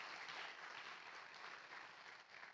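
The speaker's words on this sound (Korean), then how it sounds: "우리 박수로 환영을" Church congregation applauding to welcome a new member during a Sunday service, a continuous crackle of many hands clapping together, fairly soft and distant in the room, holding steady throughout without speech.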